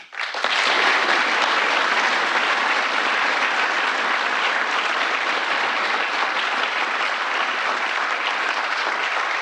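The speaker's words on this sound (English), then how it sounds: "I want you to give one round of applause again for today's recipients of the Presidential Citizens Medal" Sustained applause from a White House audience at a Presidential Citizens Medal ceremony honoring heroes of January 6, loud and steady clapping filling the room from start to finish with no speech over it.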